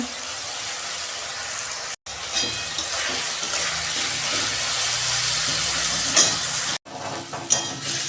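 Mixed vegetables with salt and pepper frying in a pan for a pasta dish, a close, steady sizzle with stirring clatter and two brief dropouts, no talk.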